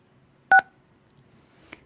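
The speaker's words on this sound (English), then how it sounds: "follow the prompts to unmute by pressing *6 on your telephone keypad" Two telephone keypad tones as star and six are pressed to unmute a caller on a public meeting phone line, one clear beep followed a second later by a fainter, shorter one over quiet line hiss.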